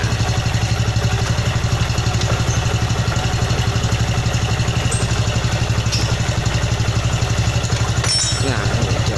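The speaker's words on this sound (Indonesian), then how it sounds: "Ini mohon maaf ya, ini suara mesin ini." A Honda Beat ESP scooter engine, misfiring with an EOT sensor fault, idles close by with a fast, even putter of regular pulses and a mechanical clatter, loud and continuous, with a brief extra rattle near the end.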